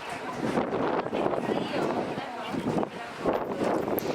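Steady gusting wind buffets the microphone outdoors at the Pikes Peak summit, a broad rushing roar with people talking underneath.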